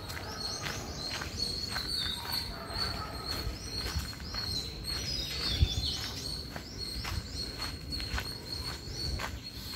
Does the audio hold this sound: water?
no